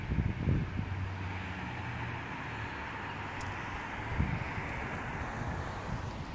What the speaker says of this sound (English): It's windy out here, loud